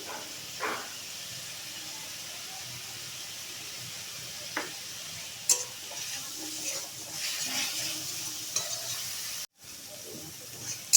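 Turmeric and salt frying in hot oil with spices for a homemade tilapia curry, a steady soft sizzle and hiss with a few brief clinks of a stirring utensil, no talk.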